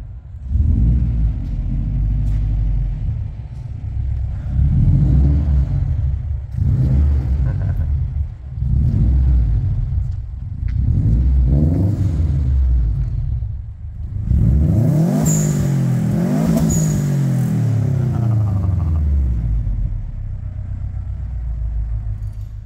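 A Subaru engine revs repeatedly inside a workshop, with several rising and falling throttle blips and deep rumbling bursts that build to a louder, longer rev near the end, heard up close.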